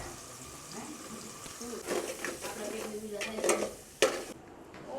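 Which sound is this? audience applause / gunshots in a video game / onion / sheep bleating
onion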